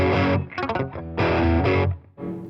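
A crunchy, British-style overdriven electric guitar tone through a Line 6 Catalyst 200 amp, loud and close, played as sustained chords with brief gaps between phrases and no talk.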